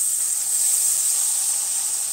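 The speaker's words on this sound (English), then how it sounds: "Frying the cheese." Cheese frying in a pot on a home stove gives a loud, steady hiss that runs without a break, close to the microphone, with no talking.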